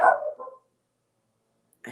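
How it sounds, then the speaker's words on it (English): A dog barks in a short burst of two or three close, fairly loud barks, then silence, with a faint yip returning at the very end. "forgive the dog noise"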